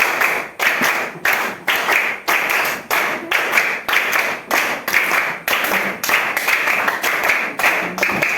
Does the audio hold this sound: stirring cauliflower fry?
no